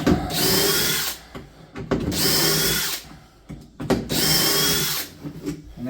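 A power drill bores peg holes in a small storage cabinet, three separate bursts of close whirring, each about a second long, separated by short pauses with light handling knocks.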